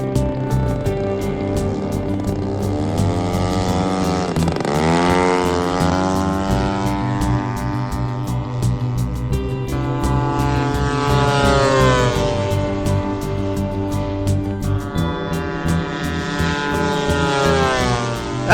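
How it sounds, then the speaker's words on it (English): A giant-scale R/C Hawker Typhoon model airplane flies at a fun-fly field, its engine a loud, steady drone with strong harmonics that sweep up and down in pitch as it makes passes, continuous throughout. "After tearing up the sky with his big Typhoon and greasing the landing"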